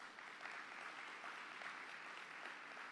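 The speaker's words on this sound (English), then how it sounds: "we want to give our students a round of applause" An audience at a Bahamas student essay and video competition applauds the students; a faint, steady wash of many hands clapping together, distant and continuous, with no individual claps standing out.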